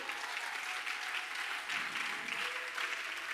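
Church congregation applauding and cheering loudly for the Lord, a steady wash of clapping from a crowd that keeps going throughout.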